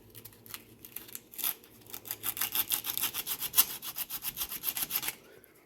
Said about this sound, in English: I'm going to sand down that nub a little bit. I'm going to use some 120 grit sandpaper.